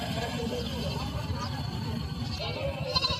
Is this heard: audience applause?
no